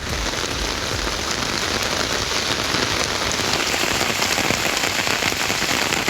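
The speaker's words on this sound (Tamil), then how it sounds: "சுமார் 1 மணி நேரத்திற்கு மேலாக கனமழை பெய்தது" Heavy rain pouring down steadily, a dense, loud, unbroken hiss of drops striking surfaces close by, with no voices.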